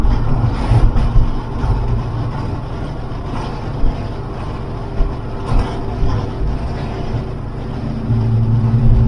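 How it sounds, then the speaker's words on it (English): Steady rushing wind buffets through the open sunroof of a Jeep WJ, a Grand Cherokee repaired after a fault, as it drives along with low engine and road rumble underneath, loud and continuous with occasional gusts. "I hope you can hear me with this sunroof open."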